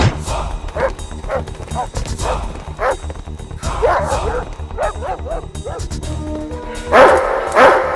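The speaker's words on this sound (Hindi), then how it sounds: "ये उनका पालतू कुत्ता है सर।" A dog barks repeatedly in short bursts, loud and nearby, with bits of thumping and background noise between the barks.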